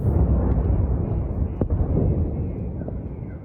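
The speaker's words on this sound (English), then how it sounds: "As the day began, explosions could be heard across the city" Missile explosions over Kyiv, Ukraine, heard at daybreak as a distant, heavy rumble that rolls on steadily with a sharper thud midway.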